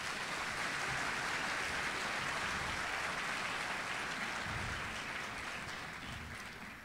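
Audience applause at a university leadership academy graduation ceremony, a soft, even wash of many hands clapping at a distance, holding steady before slowly fading toward the end.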